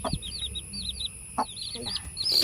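Rapid, high-pitched peeps from a chick held in hand repeat in quick bursts throughout, close by, with a few soft clucks and low thumps underneath.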